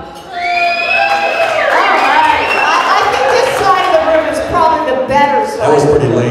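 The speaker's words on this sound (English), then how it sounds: "Can you guys give us a little cheer tonight?" Tables of a dinner audience at an awards-show event raise a loud, sustained cheer of whoops, shouts and yells mixed with scattered clapping, rising quickly and holding for several seconds.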